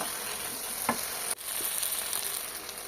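Spices for a pomfret mustard curry sauté in oil with a steady, bright sizzle and a few soft stirring scrapes. The sound is close and continuous, with no voices.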